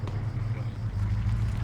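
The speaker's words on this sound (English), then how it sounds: "I hear track vehicle." Low, steady engine rumble from a tracked vehicle on a simulated battlefield, heard as a constant deep drone at moderate distance with no voices.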